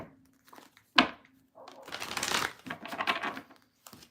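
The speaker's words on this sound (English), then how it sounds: "Two more to shuffle." Tarot cards are shuffled close up in a few papery riffling bursts, with a sharp snap near the start and quiet gaps between.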